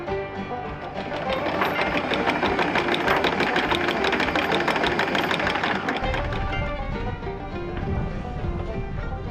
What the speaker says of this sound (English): That sound is anchor up.